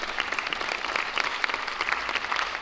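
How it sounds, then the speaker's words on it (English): An audience at a high-level climate finance pledging conference gives steady, continuous applause, moderately distant and filling the hall without a break. "Again, applause please."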